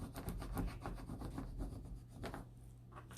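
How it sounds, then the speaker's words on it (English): A vinyl decal being rubbed firmly onto transfer tape, a soft, close rasping rub repeated in quick strokes, quiet and steady with no talk. "making sure that it's adhering to the transfer tape, rubbing it real good all the way around"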